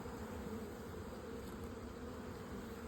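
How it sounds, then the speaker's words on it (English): Dense, steady buzzing of many honey bee workers swarming around an open hive during queen rearing work, a continuous close insect drone with no pauses and no talk. "I'm going to shake off these worker bees so I can get to the queens a little easier."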